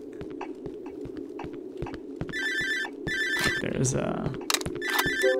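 Telephone ringing in the horror video game Cry of Fear, a repeating electronic ring in bursts over a droning ambient background with thumps, while someone talks briefly.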